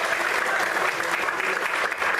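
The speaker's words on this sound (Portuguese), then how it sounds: "Aplaude o Senhor mais forte" Church congregation clapping harder when urged to applaud more loudly: a steady, thick roar of many hands clapping together for a couple of seconds, fairly close and uniform, with slight voice murmur underneath.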